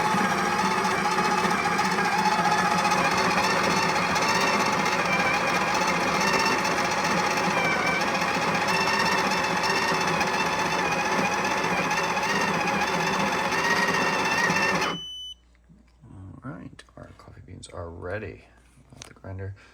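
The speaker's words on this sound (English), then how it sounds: "so we are going to grind." Built-in grinder of a Breville Barista Touch espresso machine grinding coffee beans, a steady loud mechanical whir that cuts off abruptly, followed by quiet talking.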